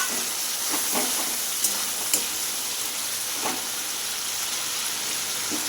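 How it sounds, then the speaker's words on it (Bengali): Fried potatoes sizzle in a spice mix with tomato for aloo dum, giving a steady close hiss with a few sharp pops and crackles throughout. "এবারে আলুগুলো আমি ঢেলে দেব এর মধ্যে"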